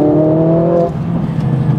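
A Mercedes CLA45S AMG engine revs hard toward its high redline with a loud, steady harmonic roar, then the pitch drops and settles into a rougher, lower drone near the microphone.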